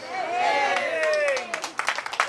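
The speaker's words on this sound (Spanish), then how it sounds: "Fuerte aplauso para el Señor" A church congregation breaks into scattered clapping that starts faintly under a lingering voice and grows into uneven, moderately distant applause.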